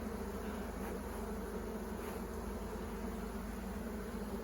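A steady, dense hum of many bees buzzing together, continuous and close, with no voices.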